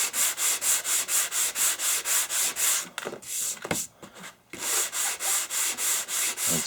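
Rapid back-and-forth sanding of a metal Union Tool Chest Co. machinist tool chest with finer sandpaper, steady rhythmic rasping strokes close up, with a brief pause midway before the strokes resume.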